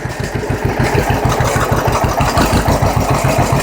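A tractor engine runs at a steady idle nearby, a loud, rhythmic low chugging with regular firing pulses, while the hydraulic PTO is being engaged.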